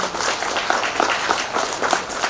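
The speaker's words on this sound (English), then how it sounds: "please give a round of applause." An audience claps in welcome for the Minister of Tourism at an indigenous cultural centre event, a brief burst of dense, close applause with overlapping hand claps.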